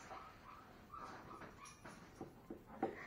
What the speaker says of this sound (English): we got a dog here